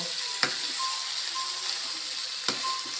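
Chopped chayote sizzles in a cooking pan while being stirred, a steady close frying hiss broken by two sharp utensil scrapes against the pan.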